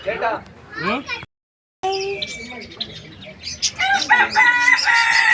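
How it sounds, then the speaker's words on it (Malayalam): A rooster crows nearby at Lalbagh, Bangalore, during an Independence Day celebration, its call rising and falling over outdoor noise, with other birds and people talking faintly in the background. "ആ അവിടെ കോഴി കരയാൻ തുടങ്ങിയിട്ടുണ്ട്."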